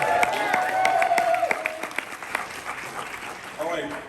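Audience applause at a Star Wars Celebration convention panel on the Ewok TV movies: a crowd claps and cheers loudly, then the applause thins out, with some voices over it.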